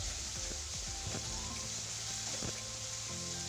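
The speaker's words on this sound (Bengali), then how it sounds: "এরকম করে কিন্তু পেঁয়াজগুলোকে ভালো করে ভেজে নিতে হবে" Sliced and grated onion sizzling steadily in hot oil in a pan for a Bengali chicken and potato curry, with a few soft clinks of stirring.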